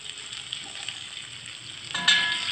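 Grated ginger and chopped green chilli fry quietly in oil for a ridge gourd dish, a soft steady sizzle that swells into a brighter, louder hiss near the end, with no voices.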